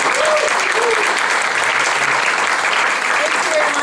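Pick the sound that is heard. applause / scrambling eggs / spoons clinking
applause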